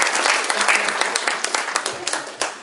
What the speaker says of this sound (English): give a round of applause for it.